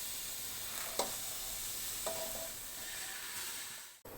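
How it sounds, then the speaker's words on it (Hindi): A steady hiss of mustard and bathua greens sizzling in a hot pressure cooker, with a couple of soft clinks from stirring and a clatter at the end. "अब इसमें मैं सरसों और बथुआ डाल रही हूँ"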